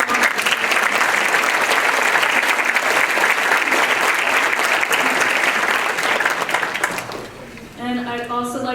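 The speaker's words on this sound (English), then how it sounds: "So can we get a round of applause?" Dense, sustained applause fills a school board meeting room, steady and fairly loud for about seven seconds, then fades out as a voice begins speaking.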